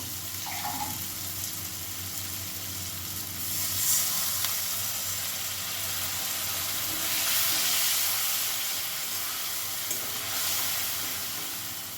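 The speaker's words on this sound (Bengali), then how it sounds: "ভালো করে একটু মশলাগুলো কষিয়ে নেব সামান্য একটু জল দেব যাতে মশলাটা পুড়ে না যায়" Spice paste with coriander powder and a splash of water frying in a pan for papad dalna, a steady close sizzle with soft stirring scrapes and brief hissing swells, no talk.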